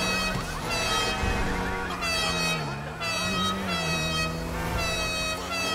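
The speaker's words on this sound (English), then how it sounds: "we're the ones with the air horn" A loud, sustained vehicle air horn blares steadily in Grand Theft Auto 5, wavering slightly in pitch, with a dense layered tone and other noise underneath.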